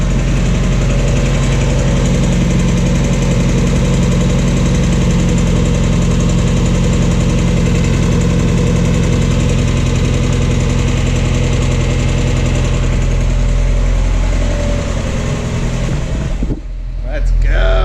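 A Mazda Miata engine fitted with a new eBay aftermarket exhaust idles loudly with a deep, steady rumble, close up, before the sound cuts off abruptly near the end.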